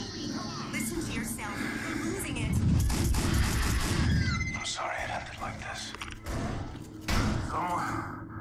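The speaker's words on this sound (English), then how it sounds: "Okay, now they are throwing grenades." Grenades explode in a prison riot fight in the video game Kane & Lynch, heavy booming thuds with gunfire crackle over several seconds, while a voice talks over the action.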